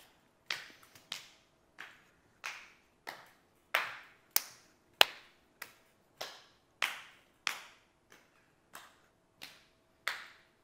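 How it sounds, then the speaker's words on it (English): Sharp single hand claps pass around a room one after another, about sixteen crisp hits at a fairly even pulse, some near and loud, others softer and farther off, with quiet between them. "I'm just going to clap, and if you can point the direction of the clap"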